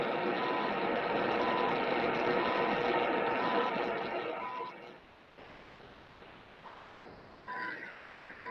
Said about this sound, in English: And I can hear the beeps.